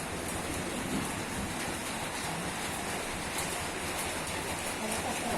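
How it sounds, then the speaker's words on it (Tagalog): Steady, dense rain hisses evenly throughout, a constant wash of drops with no clear pauses. "Lalakas ang ulan."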